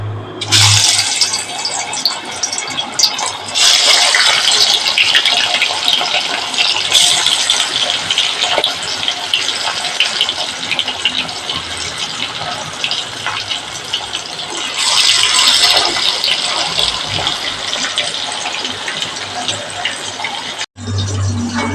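Loud, continuous hissing and crackling of fish frying in hot coconut oil, steady throughout with a brief pause near the end.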